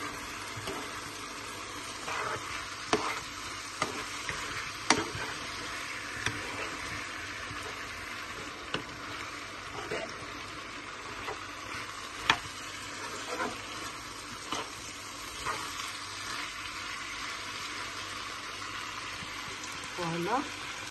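Ratatouille with aubergines fries in a pan, with soft, steady sizzling and scattered stirring scrapes and taps throughout.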